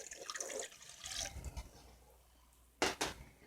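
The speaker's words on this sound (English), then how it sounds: "Now I got the yeast and the sugar in here, so I'm going to pour this in." Warm water poured into a bowl holding yeast and sugar for sweet bread dough, a soft close splashing trickle that fades out, followed by two brief louder clinks or splashes near the end.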